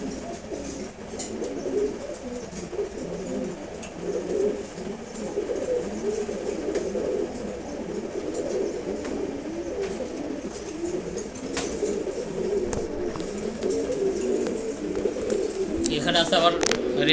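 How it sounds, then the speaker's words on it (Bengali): Racer pigeons, including a red checkered pair, coo in a continuous, layered low burble close by while a person talks over it. "এখানে আছে আবার রেসার কবুতর।"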